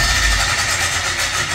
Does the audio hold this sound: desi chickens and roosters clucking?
no